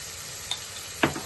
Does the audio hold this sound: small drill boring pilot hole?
no